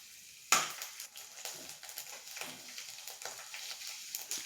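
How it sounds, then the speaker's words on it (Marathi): Garlic cloves frying in hot oil in a pan pushed beside peanuts for poha chivda, a close steady sizzle that jumps in sharply at the start, then crackles and pops in small bursts, with no talking. "इकडे आपलं लसूण सुद्धा तळून झालं आहे"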